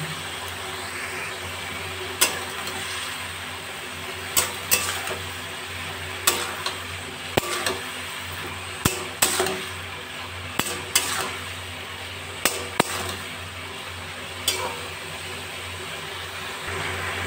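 Snake gourd seasoned with salt and turmeric, stirred in a pan over a high gas flame: a steady low sizzle of frying runs throughout, broken every second or two by sharp clinks of a spatula against the metal pan.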